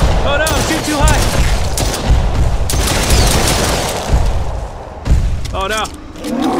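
Gunfire in the Roblox game Brookhaven comes as loud, continuous bursts of rapid shots and booms, with a voice shouting excitedly over the shooting.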